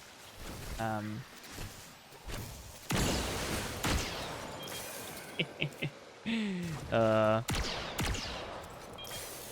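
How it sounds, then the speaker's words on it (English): A blaster hand cannon fires in Destiny 2, sharp loud shots with a burst of rapid fire among game sound effects and electronic tones, under occasional voice. "God, it sounds like one too. That's crazy. Because it's a hand cannon."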